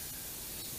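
An airbrush sprays a thin coat of yellow detail paint onto a perch-pattern fishing lure, a faint, steady airy hiss that lasts under a second with no talking.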